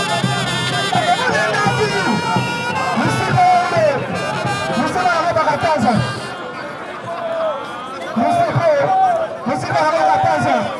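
A boxing crowd at a live fight in Kolwezi, Taotan versus Héritier, roars and chatters as a steady, fairly loud backdrop beneath a commentator's excited talking.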